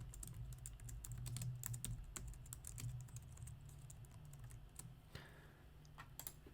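Rapid typing on a computer keyboard while filling in a description field, with steady bursts of clicky keystrokes close up over a low background hum, no voices.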